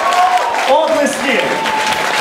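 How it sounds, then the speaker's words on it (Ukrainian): Nightclub audience applauding at an album presentation after an auction sale, a dense wash of clapping with a voice and faint tones over it. "Ще раз поплескаємо."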